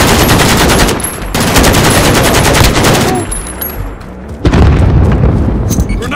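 Gunfire and explosions in Call of Duty: Modern Warfare, dense rapid machine-gun bursts loud and close, with a brief lull before a heavy boom restarts the barrage.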